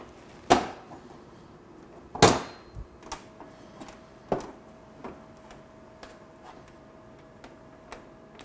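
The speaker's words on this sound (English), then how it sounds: "So we're going to take out this panel." Clipped plastic panel being pried off a 2020-or-later Can-Am Spyder RT: a few sharp snapping clicks, with two loud pops early on, then lighter ticks and taps scattered across a quiet background.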